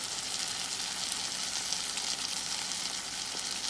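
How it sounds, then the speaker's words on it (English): Tomato fried rice with a little red hot buffalo wing sauce is stirred in a hot pan, giving a steady, loud, close sizzle and frying hiss that carries on without a break and with no voices. "So now I'm stirring that up again"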